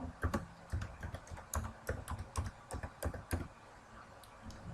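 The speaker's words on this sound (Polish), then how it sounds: "wpisujemy login oraz hasło." Keys clatter on a computer keyboard as a login and password are typed, a quick irregular run of close, crisp taps with short pauses between bursts and no voices.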